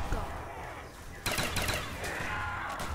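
A ray gun fires at zombies in a video game, with a sudden loud burst of energy shots partway through over steady game noise, followed by a lingering wash of effects.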